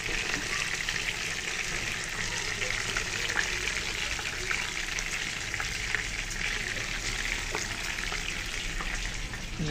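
Cauliflower frying in a pan at home, giving a steady, close crackling sizzle that runs without a break, with faint background noise and no clear talk over it.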